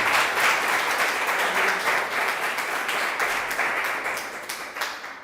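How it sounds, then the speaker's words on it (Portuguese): Steady applause from a church congregation during an evangelical service, filling the room for several seconds at a constant level before thinning slightly toward the end, with no voices on top. "Quem crê, dê uma salva de palmas no nome de nosso Senhor Jesus Cristo."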